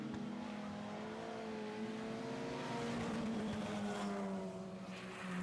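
Race cars roar around an oval speedway track at night, a steady droning engine note that rises and falls slightly as the pack circles, heard from a distance and continuous throughout.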